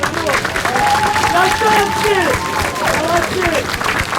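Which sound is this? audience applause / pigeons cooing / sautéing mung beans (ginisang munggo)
audience applause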